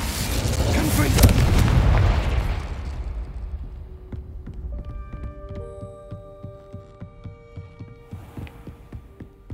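The Confringo explosion spell goes off in Hogwarts Legacy with a loud, rumbling blast over the first three seconds. It gives way to a series of softer crackling pops and chiming tones that fade toward the end.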